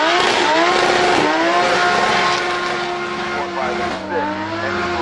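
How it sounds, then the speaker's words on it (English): A Toyota Supra drifts at a car drift festival. The engine screams loudly and continuously with rising and falling revs, mixed with tire squeal and crowd noise. "And you were watching Knob drift the Supra around"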